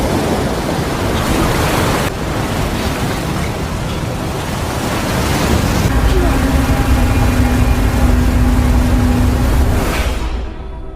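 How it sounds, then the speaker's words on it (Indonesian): Loud, steady rush of turbulent water fills the scene, a dense churning roar that swells slightly midway before dropping off at the end. "Scofield melompat ke sungai yang arusnya cukup deras"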